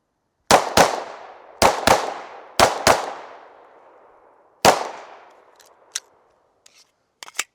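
A handgun fires hollow point rounds in sharp, loud, echoing shots: pairs of quick reports followed by a single shot, each trailing off, then fainter metallic clicks and handling noises.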